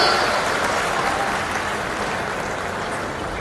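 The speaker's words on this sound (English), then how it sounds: "Give a big round of applause" A round of applause at a college orientation event, a full, steady clapping from a large audience that gradually eases in intensity over a few seconds.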